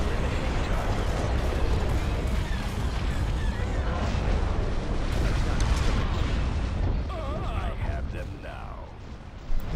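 Missile explosions rumble and burst continuously in a space combat game set during a rebel invasion of imperial territory, heavy booming layered with crackling blasts while players talk over the action.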